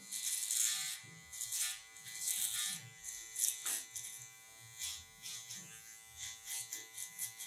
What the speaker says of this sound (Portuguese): Vou usar a máquina de acabamento